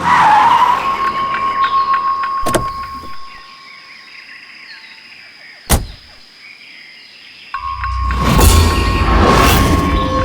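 A car with punctured tyres skids to a halt, heard as loud screeching bursts with sharp impacts and a rising rumble near the end, set over a dramatic music bed.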